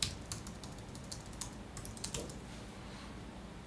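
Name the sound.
typing numbers on a computer keyboard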